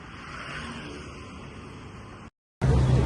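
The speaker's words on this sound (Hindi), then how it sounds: "देखो गाइस कितना भयंकर ट्रैफिक है यार ये।" Heavy road traffic near Karama in Dubai, a continuous wash of car noise that drops out briefly, then returns as a louder, closer rumble.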